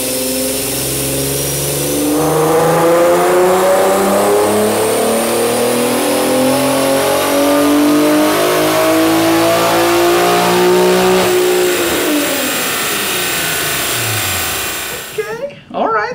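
An Infiniti Q50 on a dyno with its factory air boxes and stock engine map revs hard through a rising pull for several seconds, then drops off sharply. Loud and close, the engine sound stands alone.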